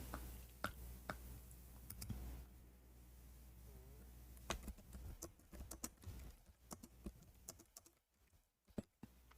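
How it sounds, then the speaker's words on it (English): Computer keyboard keys clatter in uneven bursts of quick, light clicks over a low steady hum, fairly faint and close, with brief pauses between runs of typing. "we are typing, I thought I'm typing in English"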